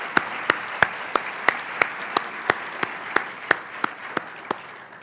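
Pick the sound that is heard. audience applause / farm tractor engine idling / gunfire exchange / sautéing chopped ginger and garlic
audience applause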